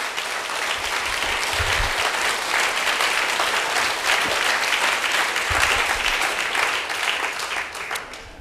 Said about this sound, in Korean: 다시 한번 박수로 주님께 영광 돌립니다.